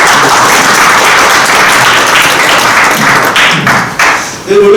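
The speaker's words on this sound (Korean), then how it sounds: "박수 한번 부탁드립니다." Applause from an audience at a political lecture in Korea, a loud dense wash of clapping that runs steadily and ends with a brief dip and a final swell, with faint voices mixed in.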